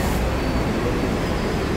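A train at Jackson Heights station, a junction of subway trains and buses in Queens, making a steady loud rumble and roar with no break, close by.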